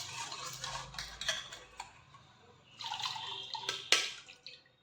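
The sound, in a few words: jaggery water being strained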